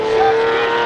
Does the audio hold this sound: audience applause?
no